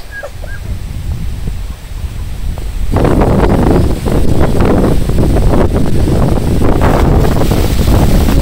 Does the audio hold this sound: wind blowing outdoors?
yes